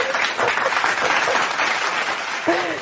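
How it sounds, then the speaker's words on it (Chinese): A live radio broadcast studio audience breaks into a dense, steady round of applause that carries through the whole moment at an even level, with a faint voice near the end. "所以先给他们掌声鼓励一下"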